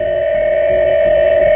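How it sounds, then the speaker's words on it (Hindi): A phone ringing tone plays as a call is placed, a steady and loud continuous electronic tone that holds throughout. "उसने फिर से अपने फोन से जॉन को फोन मिलाया"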